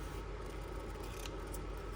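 Scissors cutting paper for a handmade birthday journal, a steady close rasp of blades running through the sheet for about two seconds with no talking.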